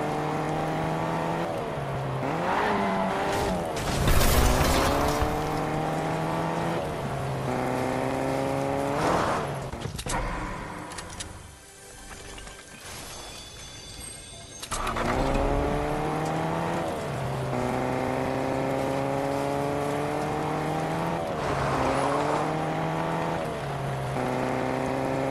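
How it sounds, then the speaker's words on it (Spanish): A V8 car engine in a Fortnite taxi revs up through repeated rising gear pulls, droning loud and steady, easing off into a quieter stretch midway before climbing again; no talking is heard. "Oh, escucha ese motor de un V8."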